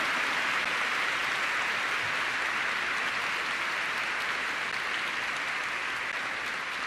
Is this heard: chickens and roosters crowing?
no